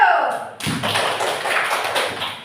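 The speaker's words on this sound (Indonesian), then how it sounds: "Tepuk tangan dulu." Students in a classroom clap together briefly after answering a teacher's questions, a short burst of close, dense hand claps following a quick tap.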